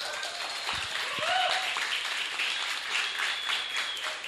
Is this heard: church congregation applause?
yes